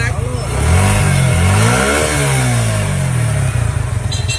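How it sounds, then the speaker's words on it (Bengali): A new Suzuki motorcycle's engine idles and revs up and down nearby, a mid-pitched rising and falling drone running throughout, with people talking over it. "ফার্স্ট টাইম বাইকটা কিন্তু স্টার্ট করছিল"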